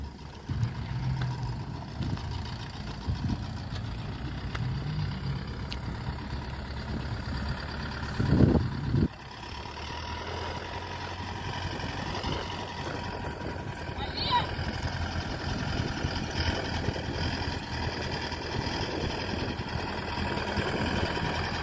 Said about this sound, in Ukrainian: Ось такий красень тракторець, люди тестують.